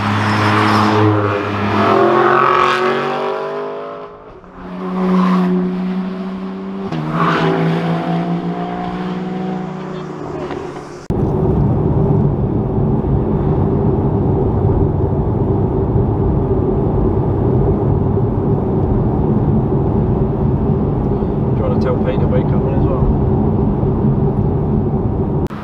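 A Porsche Cayman 718 GTS 4.0 on mountain roads in the Alps and Pyrenees, its engine revving loudly in strong surges, then settling into a steady, heavy cabin rumble of cruising with tyre and road noise.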